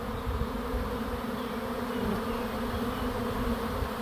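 A massive honeybee swarm gathered around a backyard swarm trap box drones in a steady, dense buzz that fills the space without pause, loud and close with no voices.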